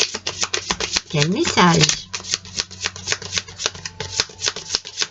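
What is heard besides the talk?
shuffling animal tarot cards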